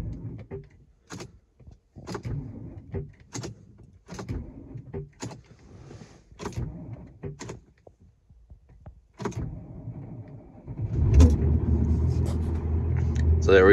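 Ignition key held on a VW Touareg V10 TDI with a no-crank fault: a run of sharp repeated clicks and relay-like ticks, then a louder steady electrical whir and hum near the end, with a voice speaking between.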